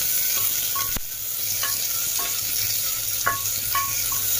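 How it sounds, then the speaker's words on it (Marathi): Onions frying and being stirred in a pan for a chicken curry, a steady close sizzle with a few light scrapes and clinks of the spoon against the pan. "आता कांदा मस्त थोडासा लाल होईपर्यंत आपण हलवून घेऊया"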